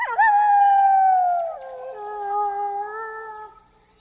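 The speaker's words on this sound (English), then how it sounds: "I don't think it's a wolf, Chucky. If it was, we'd hear him say" A long, wavering wolf-like howl from an animated Rugrats movie, clear and alone, sliding slowly downward in pitch and fading out after a few seconds.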